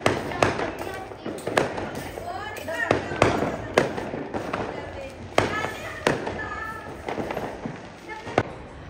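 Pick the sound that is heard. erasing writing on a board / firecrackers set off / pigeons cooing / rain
firecrackers set off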